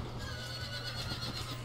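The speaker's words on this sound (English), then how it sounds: "regiment of horse coming in for a charge against the bargear" Cavalry horses neigh and whinny over the rumble of hooves as a regiment charges in the Empire Total War battle game. The sound is loud and continuous across the clip, with no talk.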